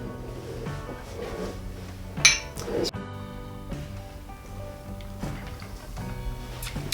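Whiskey glasses clink together in a toast over 100-plus proof bourbon: one sharp bright glassy ting at close range, with light room noise and soft background sounds around it.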